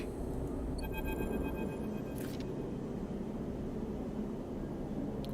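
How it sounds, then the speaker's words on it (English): Crackling white noise in the video game Citizen Sleeper, a dense steady hiss and rumble that fills the whole clip, with faint electronic tones and a brief bright burst layered on top. "the final cache of Yadigan data uploaded, the air crackles with white noise"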